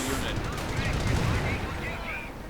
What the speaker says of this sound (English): Another heavy machine gun catching other Panzer grenades out in the open.